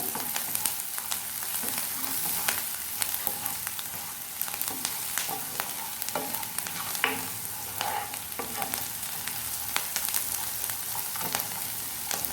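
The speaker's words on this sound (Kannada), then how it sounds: "ಒಂದು ಹಸಿಮೆಣಸು ಕೂಡ ಹಾಕ್ಕೊಳ್ಳಿ. ಹಾಕಿ ಫ್ರೈ ಮಾಡ್ಕೊಳ್ಬೇಕು." Green chili frying in a pan for egg tava pulao, a steady crackling sizzle with frequent scraping stirs and clinks close up, no talking.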